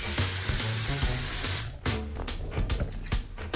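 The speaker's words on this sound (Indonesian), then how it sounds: "Kita semprot area besar dulu pakai warna-warna dasar yang terang dan merata" A spray paint can hisses in a long continuous burst onto a bedroom wall for a mural, then breaks into shorter bursts and clicks, loud and close.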